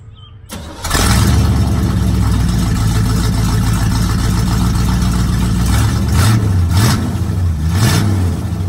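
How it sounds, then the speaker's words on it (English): Engine of a 1979 square body truck with Flowmaster exhaust cranks and fires up, then settles into a loud, steady, rumbling idle close by, with a few brief revs blipping near the end. "the Street Speed 717 exhaust modification"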